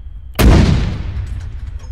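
A single loud artillery round fires in a military video game, a sharp near blast followed by a long rumbling decay that trails off over nearly two seconds, with no talk.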